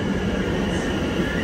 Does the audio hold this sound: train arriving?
yes